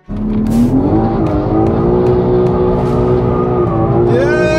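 A crashed and rebuilt BMW M3 drifts, its engine roaring loud and sustained and climbing in pitch, with hissing tire noise and a brief burst of scrubbing near the start.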